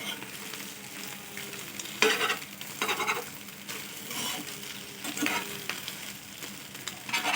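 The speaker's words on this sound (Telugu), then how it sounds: "దీనిని కొంచెం బాగా వేగనిద్దాం పచ్చి పచ్చిగా లేకుండా" Small scrambled egg pieces for egg manchurian fry in a pan, a constant sizzle broken by repeated scraping bursts of a spatula stirring and breaking them up, close and clear with no voices.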